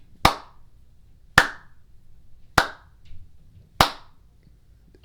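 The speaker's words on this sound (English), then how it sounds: "I just had to do a slow clap for blessed." Four slow, evenly spaced hand claps ring out loud and close, each a sharp crack with a short decay and quiet gaps between.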